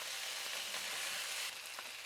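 Stir fry with sauce and rice tossed in a hot pan, a loud continuous sizzle filling the whole moment, close up and without speech.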